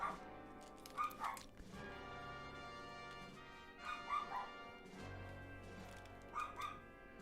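A dog barks off-camera during a drawing livestream, in three short clusters of yips and barks spaced a few seconds apart, moderately distant over a steady low background hum.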